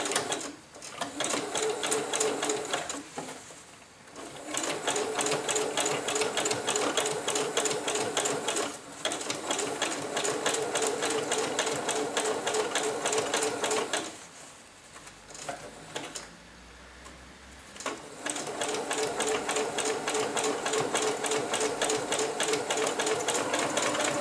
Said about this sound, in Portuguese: eu vou colocar uma costura zigue-zague